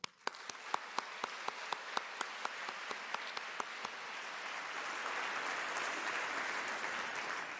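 A university convocation audience breaks into applause, starting with a few distinct sharp claps that quickly swell into dense, sustained clapping from a large crowd, heard at some distance and fairly quiet.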